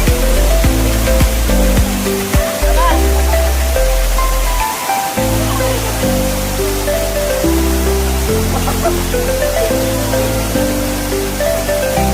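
A waterfall near the Kondhana caves gives a loud, steady roar throughout, with a melodic tune playing over the rushing water.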